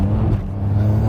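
Ferrari 599 GTB Fiorano engine accelerating with a steady, loud low drone throughout, heard close on a cold day, with a brief dip suggesting a gear change midway.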